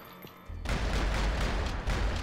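Gunfire in the video game Max Payne 3 multiplayer bursts in after a quiet moment as a dense, loud fusillade of rapid booming shots that continues to the end.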